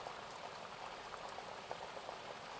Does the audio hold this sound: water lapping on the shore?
yes